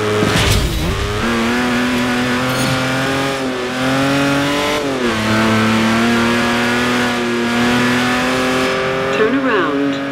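A car races at speed past a speed trap in Forza Horizon, set in Colorado. The engine revs loud and close, climbing through gear shifts with a rising, sustained roar and a brief tire squeal.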